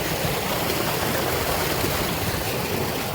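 Irrigation water flowing into a cotton field makes a continuous, broad rushing hiss, close and steady throughout with no voices.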